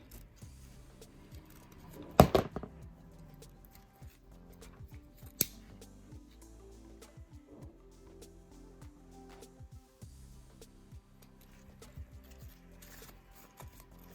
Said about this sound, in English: we're going to cut from here round an angle to that outer corner.